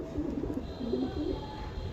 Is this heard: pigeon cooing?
yes